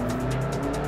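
A powerful car engine in Forza Horizon 4 drones steadily at high revs, loud and continuous with strong low harmonics and a faint tire-squeal edge.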